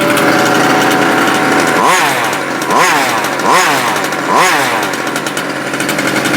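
A Losi gas-powered RC truck engine revs loudly in several rising and falling bursts over a constant buzzing two-stroke drone, close up and with no talking.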